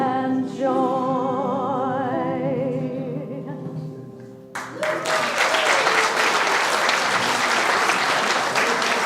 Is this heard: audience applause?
yes